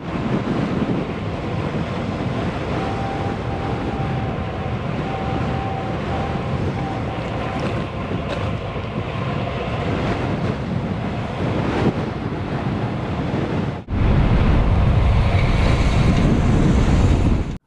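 Heavy, roaring wind buffeting the microphone continuously while descending Mont Ventoux by bike, growing even louder and more rumbling near the end.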